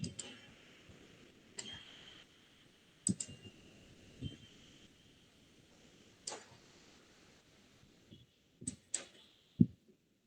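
Scattered computer mouse clicks, sharp and fairly close, coming singly and in quick pairs with long quiet gaps between them over a faint background.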